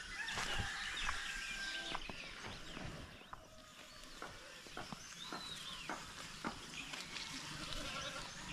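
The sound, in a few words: carabao (water buffalo) crying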